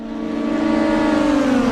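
A DTM race car at full throttle, its engine note rising steadily as it pulls past a rival, loud and close with a strong harmonic whine and no talk over it.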